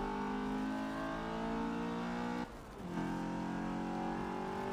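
A BMW E30 M3 takes a curve at the Nürburgring, its engine holding a steady, loud, close drone with a brief dip as the revs drop, then pulling back up to a sustained pitch.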